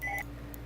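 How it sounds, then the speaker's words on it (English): A telephone gives a short pair of electronic beeps, quick and fairly faint, fading into a low steady room hum. "Let me pause that. That's a phone."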